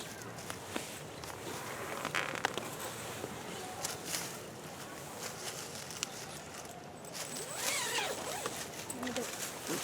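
A zipper slides along the bug net of a Tigris mosquito hammock outdoors, with short faint zips and rustling under quiet talk.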